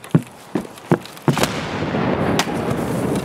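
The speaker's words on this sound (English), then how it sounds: "Oh, I'm getting shot at from the left." Video game gunfire, several sharp cracks spaced irregularly, then a dense rumbling stretch with one more loud crack near the end.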